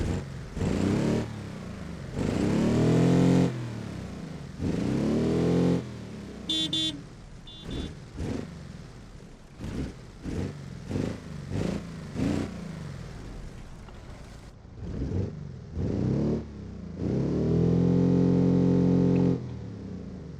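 A BeamNG.drive car engine with muffler on revving repeatedly in rising whines, dropping between bursts into rattling pops and idle, loud and close.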